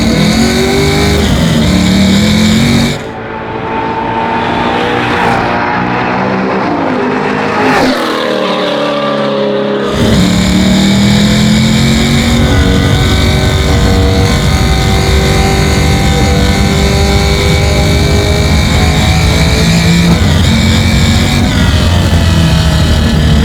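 A garage-built 1968 Chevrolet Camaro muscle car accelerates hard at speed, its loud engine roaring steadily and climbing through gear changes, close and continuous with no voices.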